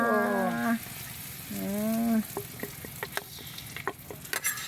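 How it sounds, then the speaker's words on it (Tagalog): Kamote (sweet potato) frying in bubbling oil gives a steady sizzling hiss with scattered pops and crackles, while loud tonal, call-like sounds rise over it near the start. "Iprito na namo, bukal-bukal na"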